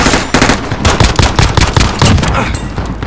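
Rapid automatic gunfire in a Call of Duty: Modern Warfare match, dense bursts of loud shots overlapping with scattered single cracks throughout, a chaotic close-range firefight with no talking.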